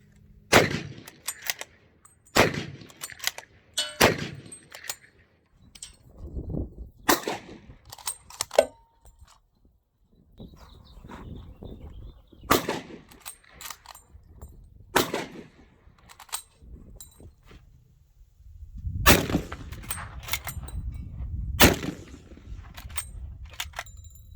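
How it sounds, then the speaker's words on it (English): Heavy-calibre rifle shots from a .458 Lott and a .505 Gibbs, about nine sharp booming reports spaced a second or more apart, each with a short echoing tail, loud and close with no talk. "Pay particular attention to how much the rifle moves while I'm firing it."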